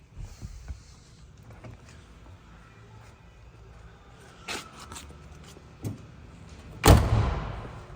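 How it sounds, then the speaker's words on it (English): A single solid door thump from a 1975 Chevrolet Monte Carlo near the end, preceded by quiet rustling and a few light clicks. "Door closes great."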